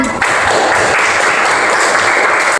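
A classroom of primary school pupils bursts into loud, dense clapping that holds steady for a couple of seconds and then stops abruptly.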